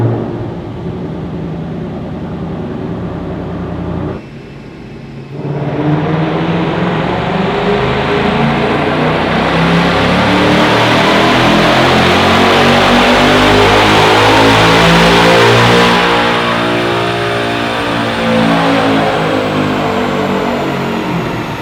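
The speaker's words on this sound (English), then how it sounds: "So let's go ahead, fire up this car and see what kind of horsepower it makes." A Ford Mustang GT fitted with a power pack runs hard on a chassis dyno. The loud engine drops briefly, then climbs in a long, sweeping rev through the gears to a high peak before easing off, without speech.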